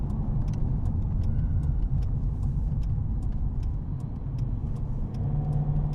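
A 2004 Ford Thunderbird cruises down the I-5 freeway, heard from inside as a steady low engine and road drone with constant tire rumble and faint intermittent clicks.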